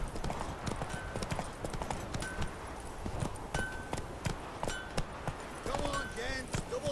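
Roach, Geralt's horse in The Witcher 3, gallops with rapid rhythmic hoof clip-clops on the ground, a steady close beat, while game voices and a brief whinny sound over it.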